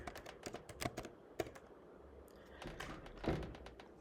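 Fingers tap out a short run of keystrokes on a computer keyboard, quiet close clicks in uneven bursts with a brief pause in the middle.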